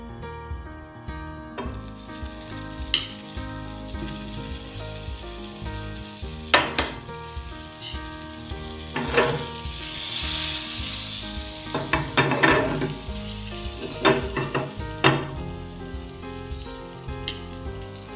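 Butter heating in a pan for homemade pizza sauce, a steady sizzling hiss, close by, with occasional clatters and scraping bursts, and no speech.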